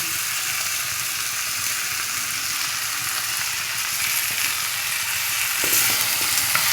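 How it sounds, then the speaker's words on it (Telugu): Ground masala fries with chopped vegetables in a pressure cooker for a vegetable pulao, giving a loud, steady, close sizzle that hisses on without pause, with no voices. "అన్ని ముక్కలకు పట్టేట్లు మసాలా అంతా వేపుకుందాం"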